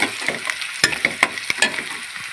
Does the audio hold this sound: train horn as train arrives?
no